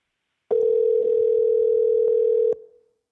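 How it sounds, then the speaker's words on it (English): A telephone call connects with a single steady dial-type tone, loud and unbroken for about two seconds, then cutting off with a short fading tail, heard alone. "I'm going to call a phone number,"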